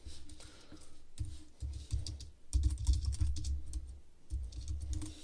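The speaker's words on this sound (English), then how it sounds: "It's typing over here to the side." Fingers type on a slightly clicky computer keyboard in steady bursts of close, crisp key clicks with short pauses between runs, and no voices.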